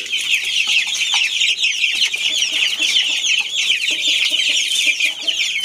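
A flock of chicks clucks and cheeps continuously at close range while being given feed, a busy, steady chatter with no talking.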